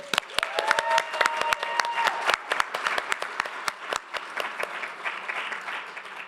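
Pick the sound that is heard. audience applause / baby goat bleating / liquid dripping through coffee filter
audience applause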